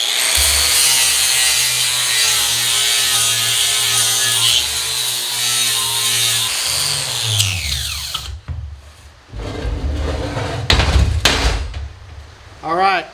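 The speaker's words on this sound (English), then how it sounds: "sand the inside edge of this because I'm going to weld stuff to it" Harsh, loud power sanding on a rusty steel edge being prepped for welding, a steady grinding roar for about eight seconds that stops, followed by scattered clanks and handling noises.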